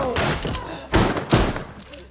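Gunfire in an action film: a quick cluster of loud, sharp shots with heavy thuds, two especially strong bursts following the first, set against a busy, dense soundtrack.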